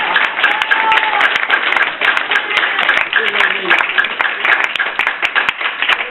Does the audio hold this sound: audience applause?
yes